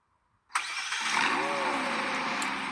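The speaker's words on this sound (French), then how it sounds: "je sais pas pourquoi, mais les démarrages sur le jeu, ils sont mieux." A car engine starting in the video game Drive World: after a quiet moment it cranks and catches abruptly, then settles into a steady, loud idle hum that continues to the end.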